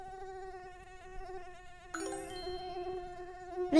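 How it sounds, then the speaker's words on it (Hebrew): A cartoon mosquito whines as a steady, thin buzz of stacked tones, moderately loud. A chiming jingle joins partway through and sustains to the end. "mosquito"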